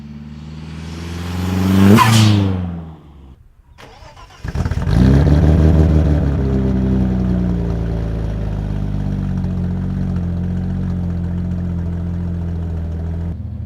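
A loud straight-piped car engine cranks and revs up, briefly drops, then settles into a deep, rumbling idle that holds steady.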